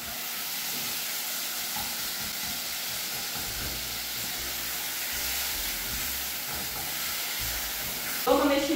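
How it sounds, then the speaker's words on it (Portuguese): Chicken sears in olive oil in a pot, giving a steady loud sizzle and hiss that runs unbroken for the whole stretch, with a brief clatter of stirring near the end. "E aí, eu vou dar uma selada nesse frango."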